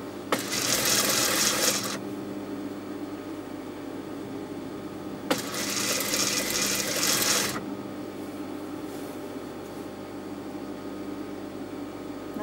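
Sewing machine stitching a shirt collar, two separate bursts of stitching about two seconds each, with a quiet pause between them and a faint background hum afterward.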